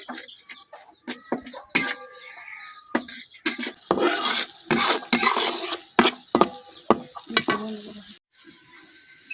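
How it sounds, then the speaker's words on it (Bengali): Spice paste with ground coriander and salt frying in oil in a pan, with a spoon scraping and stirring in irregular bursts over a soft sizzle, close and fairly loud, with brief pauses between strokes. "মশলা কিন্তু কষা নিয়ে হয়ে গেছে একবার উপর দিয়ে তেল ছেড়ে দিছে"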